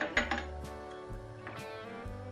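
A utensil stirs vermicelli into harira soup in a pot, giving a few close metallic clinks and scrapes early on, followed by softer, intermittent knocks and tonal rings of metal against the pot.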